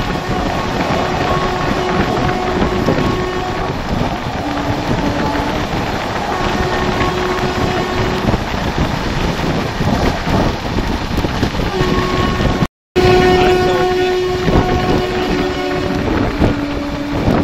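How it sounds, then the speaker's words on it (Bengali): Rupasi Bangla Express passenger train running at about 120 km/h, a steady loud rumble of wheels and rushing wind noise with faint tonal hums throughout, briefly cut out near the end. "ট্রেন কিন্তু আস্তে আস্তে নিজের গতি বাড়িয়ে 120 কাছাকাছি চলে এসছে।"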